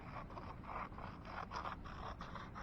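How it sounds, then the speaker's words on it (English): Scissors trim an excess fabric edge in a row of quiet, close scraping cuts with brief pauses between strokes. "And I'm just going to trim that off."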